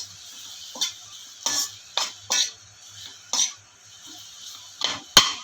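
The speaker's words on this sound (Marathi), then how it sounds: "खजूर चांगले परतून घ्यायचे नरम होईपर्यंत" Dates being sautéed in homemade ghee for makhana dry-fruit laddus, with irregular scraping stirs of a spatula against the pan every second or so, a faint sizzle underneath and a sharper clink near the end.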